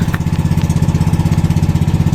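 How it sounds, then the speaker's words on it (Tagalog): A boat's engine runs on the approach to an island, a loud, steady, rhythmic putter close by that continues without pause. "pinatay na yung makina"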